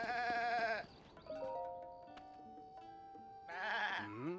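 White goats at Tabanta Bridge stable in the video game The Legend of Zelda: Tears of the Kingdom give two wavering bleats, one at the start and one near the end, over soft game music.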